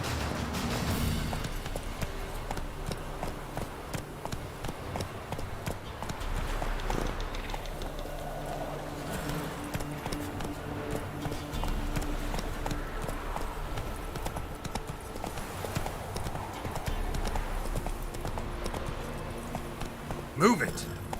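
Roach, a horse in The Witcher 3, gallops with rapid rhythmic hoofbeats over a dense in-game background, steady throughout, while a voice speaks over the action.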